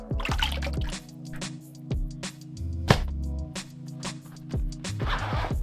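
Water poured and dripping over a BORUIT V15 flashlight during a splash test, with splashes, trickles and irregular drops close by.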